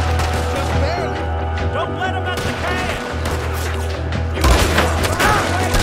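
Gunfire in a Western shootout from Red Dead Redemption 2, a slow-firing gun going off repeatedly among loud booms and crashes over a steady game background, with one heavier blast near the end.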